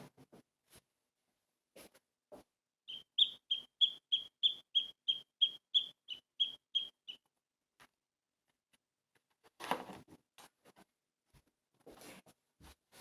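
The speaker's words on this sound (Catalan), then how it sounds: "El pardal." A sparrow chirps a quick, evenly spaced run of about a dozen bright, clear notes amid otherwise quiet surroundings with a few soft rustles and knocks.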